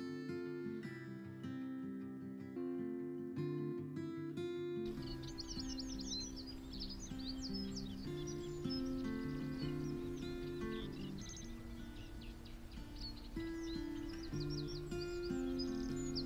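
Reed bunting singing, with quick, high chirping notes repeated through most of the stretch, fairly faint and layered over steady background music.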